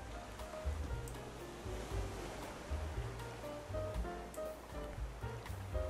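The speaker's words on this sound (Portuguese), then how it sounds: "as ondas estão começando" Ocean waves in the video game Raft, a steady washing surf with low rolling swells and occasional splashes, continuous and moderately loud.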